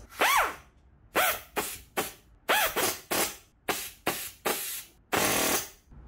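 A pneumatic air screwdriver drives bolts while a JITOOL concrete nailer is being assembled. It gives a quick series of about nine short whirring, hissing bursts with brief pauses between them, loud and close, with no talking.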